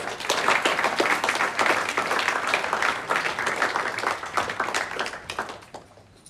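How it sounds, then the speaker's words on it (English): An audience at a sports awards night gives another round of applause for the most improved player recipients, dense steady clapping that stays loud for several seconds before thinning out and fading at the end. "as we give you another round of applause"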